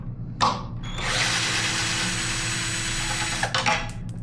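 A power tool spinning out a bolt on a BMW M1000RR motorcycle, giving a loud, close, steady whir for about two and a half seconds with short mechanical knocks before and after.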